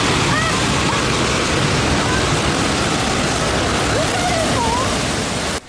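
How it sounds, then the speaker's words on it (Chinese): Muddy rainwater and debris from a large landslide in Atami, Shizuoka, pour down like a black waterfall, making a loud, continuous, broadband roar throughout with faint higher tones drifting above. "上周六，静冈县热海市发生大规模土石崩塌，雨水夹带着泥沙，犹如一道黑色大瀑布宣泄而下"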